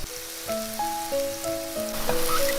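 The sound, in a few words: king oyster mushroom slices frying in a pan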